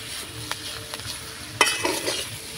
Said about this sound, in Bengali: এবার সব শেষে দিয়ে দেবো আমি ধনিয়া পাতা কুচি সামান্য একটুখানি, দিয়ে একটু নাড়াচাড়া করে নামিয়ে নেব।